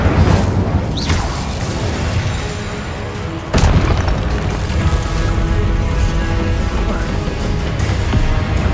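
A spell explosion in Hogwarts Legacy sounds as a dense rumbling boom with a sharp crashing burst midway, layered over continuous heavy game noise.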